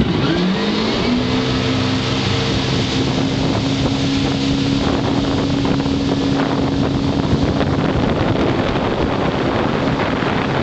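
A Yamaha FX-140 personal watercraft runs steadily on a river, its engine droning loud and close throughout with a rising pitch at the start and constant wind buffeting the microphone.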